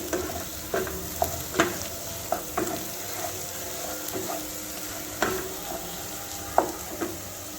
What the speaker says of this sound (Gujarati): મેશ કરેલા બટેટા આપણે ઉમેરીએ અને એને પણ સારી રીતે આપણે મિક્સ કરીએ